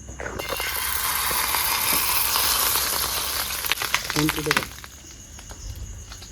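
Egg frying in mustard oil in a frying pan, a loud steady sizzle that builds as it hits the hot oil, then breaks into scraping clatter before settling; a voice speaks briefly over it.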